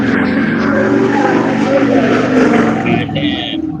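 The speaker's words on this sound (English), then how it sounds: "OTK, you sound like you in the engine block" Loud, steady droning engine noise comes through a call participant's microphone, a continuous low rumble that stays strong throughout with slight fluctuations.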